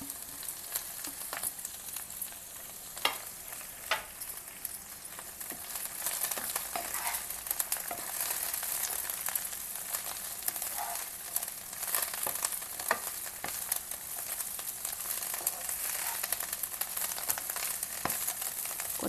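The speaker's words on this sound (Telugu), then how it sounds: "దాన్ని మనం నూనెలో బాగా వేయించుకోవాలి" Coriander leaves frying in hot oil give off a steady, crackling sizzle with scattered sharp pops, close up and continuous with nobody speaking.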